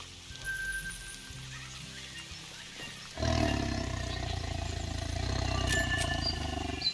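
A tiger in the hunting game theHunter: Call of the Wild, on the Sundarpatan map, lets out a sudden loud, deep roar. The roar breaks a quiet ambience partway through and rumbles on steadily to the end.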